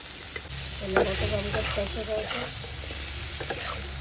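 Potatoes tumble into a hot pan already holding Ganges puti and bata fish with drumsticks and salt, setting off a steady sizzle with stirring scrapes and clatter close by.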